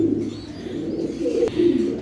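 Racing pigeons coo in low, throaty, rolling calls, close by and continuous, with a brief sharp click midway.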